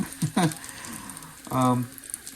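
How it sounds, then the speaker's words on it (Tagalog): Oil sizzles and crackles quietly as tuyo, Filipino dried fish, fries in a pan, with short bursts of speech cutting in over the steady hiss. "Prito lang natin ng bahagya."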